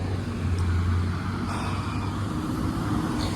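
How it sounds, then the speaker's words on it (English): A FedEx delivery truck rolls past on a city street, a steady engine and road rumble close by over traffic noise, with no one speaking. "Here's a FedEx truck."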